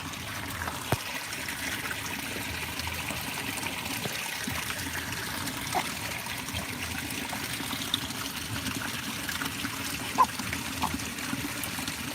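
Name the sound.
water trickling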